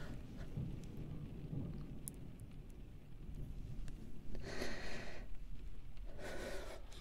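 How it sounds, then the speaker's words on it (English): A thunderstorm rumbles with low, continuous thunder under steady rain, swelling in two louder bursts toward the end. "I'm sure the rain is lightened up enough by now"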